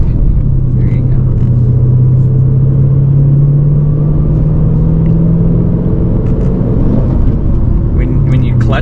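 A 425HP Dodge Challenger SRT8 engine drones loudly and steadily, its pitch slowly climbing as it revs while a driver learns stick shift, with voices talking over the engine.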